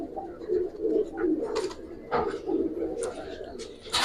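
Giribaz pigeons coo softly in a loft, low rolling calls running under a voice talking nearby, with a few sharper noises breaking in.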